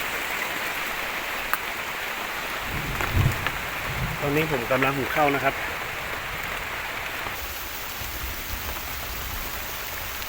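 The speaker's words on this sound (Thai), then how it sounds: "ตอนนี้ฝนตกหนักมากเลยนะครับ" Heavy rain drums steadily on a temporary camp shelter in a forest during a storm, a dense continuous hiss throughout, while someone speaks briefly over it.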